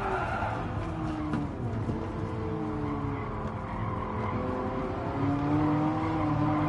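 A race car in Gran Turismo Sport brakes hard from fourth gear, its tires skidding and squealing in sustained, wavering whines over a loud, continuous engine roar.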